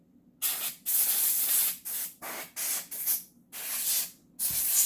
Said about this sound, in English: I'm not really used to using this kind of spray.